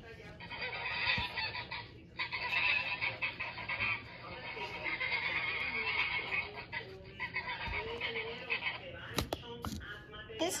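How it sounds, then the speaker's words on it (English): A goose honks continuously in loud, nasal, overlapping calls, close by, with a few sharp clicks and knocks near the end. "This is a goose."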